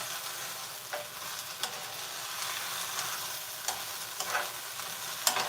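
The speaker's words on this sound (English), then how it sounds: "I think the vegetables are cooking very well right at the moment" Chicken livers, gizzards and vegetables stir-frying in a pan give off a steady, close sizzle, with a few sharp scrapes and clacks of the stirring utensil scattered throughout.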